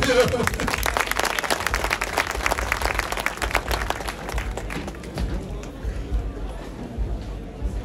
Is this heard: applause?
yes